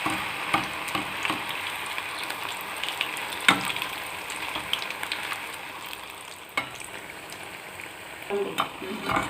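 Tapioca (kappa) bondas deep-frying in hot oil give a steady, close sizzle and bubbling crackle, with a few sharper clinks and stirring knocks breaking through along the way.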